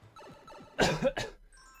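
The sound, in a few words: cough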